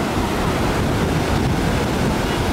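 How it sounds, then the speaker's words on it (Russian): Huge ocean waves surging and churning on a Sri Lanka shore in the late evening, a constant loud roar of surf with wind buffeting the microphone, no voices. "Посмотрите, какие волны огромные."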